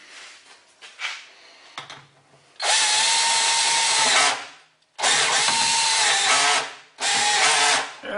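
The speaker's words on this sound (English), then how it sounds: "I'm going to have to go back to the drill." Power drill boring out a brass bushing on a Highland Park 18-inch rock saw, three loud sustained whirring bursts close up, separated by short pauses, after some quieter handling knocks.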